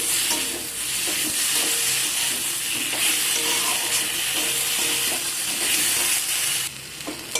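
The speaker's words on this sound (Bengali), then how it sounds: "সব কিছুকে ভালো করে নাড়াচাড়া করে নিয়েছি।" Fish with mustard paste and potatoes being stirred in a hot pan for a Bengali fish curry, a steady loud sizzle with scraping, stirring strokes throughout, easing slightly near the end.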